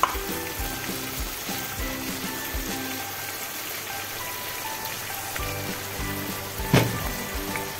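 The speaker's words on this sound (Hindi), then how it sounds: "अब इसको तेज आंच पे हम 5 से 10 मिनट तक और भूनेंगे" Rajma masala sizzles steadily on high heat, a dense, continuous frying hiss with soft stirring scrapes and one sharper clatter near the end, close and alone without talk.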